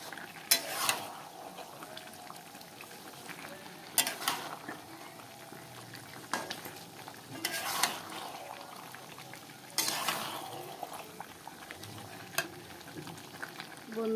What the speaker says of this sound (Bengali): মাংসটা কিছু সাতলানো হয়ে এসেছে, এখনো হয়নি